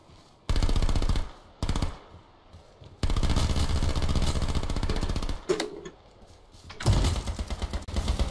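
Bursts of automatic gunfire from the battle royale game H1Z1 King of the Kill, loud and close, in several sustained volleys with short pauses between them and no talking.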